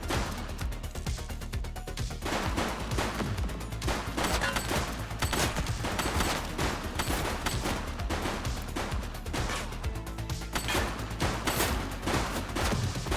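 Sustained rapid gunfire rattles in a shootout with a suspect in the police video game The Precinct, dense overlapping loud bursts of shots continuing without pause throughout.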